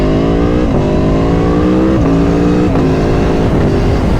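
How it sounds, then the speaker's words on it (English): A loud motorcycle engine revs up repeatedly, pitch climbing then dropping at each gear change, close and powerful throughout, with the exhaust popping, crackling and banging on shifts. "if you time the gear shift right, it pops at the exhaust and it just crackles and bangs"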